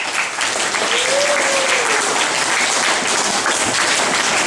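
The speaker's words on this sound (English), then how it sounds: "I think an applause goes right there." Full, sustained applause fills a hall during a Black History Month speech, a thick wash of many clapping hands at steady volume, with a brief whoop rising over it near the start.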